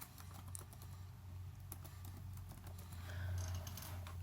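Keys clatter steadily on a computer keyboard as a word is typed into a spreadsheet cell, a quiet, continuous run of taps over a low constant hum.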